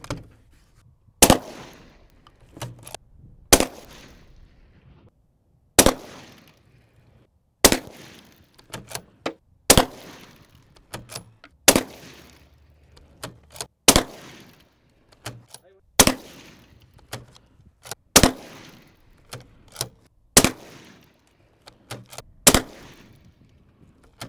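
Gunshots fired at an Agilite Invader ceramic body armor plate, about eleven loud sharp reports spaced a couple of seconds apart outdoors, each trailed by faint impact clatter and echo, with brief voices between some shots.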